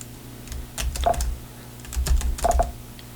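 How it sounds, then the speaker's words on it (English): Clicky keys on an M3 MacBook Air are typed in two short bursts of rapid, close taps separated by a brief pause, with no talking. "the keys, the clickiness of the keys is really nice"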